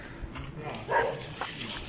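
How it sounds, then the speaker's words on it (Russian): Dogs bark a few times near old railway tracks in Vladimir, short muffled woofs spaced through a brief moment over outdoor background noise. "Ну вы чё гавкаете-то?"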